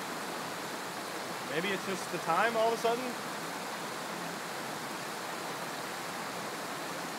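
Steady broadband rush of a waterfall along a stream, continuous and fairly close, with someone briefly speaking over it partway through.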